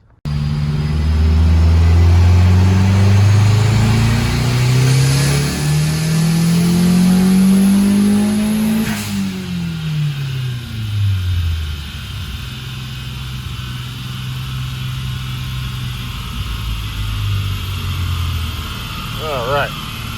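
A tuned custom car's engine climbs in a long, loud rising rev, peaks, then drops sharply and falls back to a lower idle-like drone, with talking faintly underneath.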